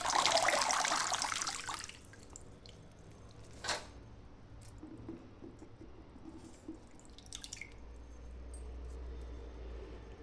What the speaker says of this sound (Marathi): आता ही तांदूळची भाजी मी निवडून आता स्वच्छ धुवून घेते आहे.